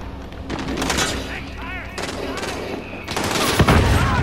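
Gunfire in Call of Duty Modern Warfare on the cramped Shipment map: loud, rapid bursts and single shots crackle throughout, building to heavier firing at the end, mixed with game effects and a player talking.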